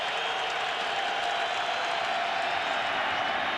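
A stadium crowd at a 2003 NFL game between the Cleveland Browns and New England Patriots roars in a steady, broad wash of cheering and applause, continuous and fairly distant-sounding throughout.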